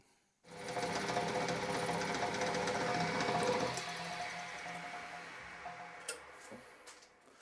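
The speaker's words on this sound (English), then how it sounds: "Let me cut a thread and we'll come back." A metal lathe cutting a 5/8 cycle thread on a small 6mm part, a whirring, ticking mechanical run that starts abruptly, holds for a few seconds, then drops to a quieter hum with small knocks.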